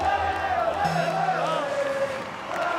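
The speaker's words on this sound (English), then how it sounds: "The crowd rallying behind Cloud9 as the final seconds of Game 3 tick away." An esports arena crowd at the Rocket League RLCS World Championship grand finals roars steadily in the background as a commentator talks excitedly over it.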